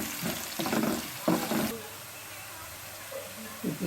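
Sliced onions fry in a pan until golden for restaurant-style khushka mash daal, a soft steady sizzle beneath several short clattering bursts of stirring.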